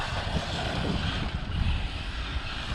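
Arrma Mojave RC car motor revving at full throttle outdoors, a loud, steady high-pitched whine with gritty broadband roar, sustained without pause for the whole stretch and close to the listener.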